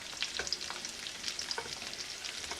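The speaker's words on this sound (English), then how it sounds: "And I want to stir in 4 tablespoons of butter." Butter being stirred into a port wine sauce in a pan, a quiet bubbling sizzle with light clinks and scrapes of the spoon at close range, no talking.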